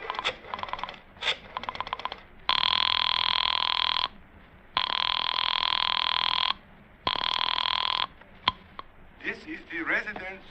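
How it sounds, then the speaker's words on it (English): Old-time radio drama telephone effect: a quick rattle of rotary dialing, then three long, loud electric ring bursts separated by short gaps, followed by a click and muffled voice-like chatter at the end. "I dug through the telephone book and I found Dr. Matson B. Forsyth's number and I dialed it."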